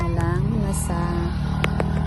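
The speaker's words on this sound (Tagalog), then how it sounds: "Kita nyo yung mga dumadaan ng mga tricycle at saka mga motor." Tricycles and motorcycles pass along a highway beside a roadside shop, a loud steady engine drone with a whining pitch, close by and continuous with no clear talking.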